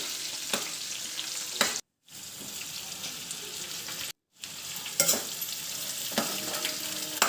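Steady oily sizzle of green chillies and onions frying in oil, with occasional stirring clicks and two brief silent gaps; no voices.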